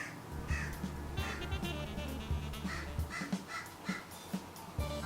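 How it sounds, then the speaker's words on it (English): A crow caws repeatedly at close range, a series of harsh, loud calls in uneven bursts over a steady background rumble. "Crow demanded attention, and for its voice to be heard"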